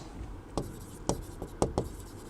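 A pen scratches across paper as a biology quiz question is written out by hand, five or six short, faint strokes sounding close up against a quiet room hum.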